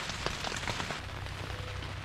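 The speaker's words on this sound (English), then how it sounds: "it's been pouring rain this entire night" Heavy rain pours continuously at night onto a tent, a dense wash of drops with occasional louder splashes, close and steady throughout.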